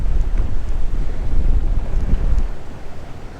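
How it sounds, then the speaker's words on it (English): Strong gusts of wind buffet the microphone on an inshore fishing boat out on the water, a continuous loud roar with rumbling low-end turbulence and faint water wash, no voices. "It is super windy, but very beautiful day"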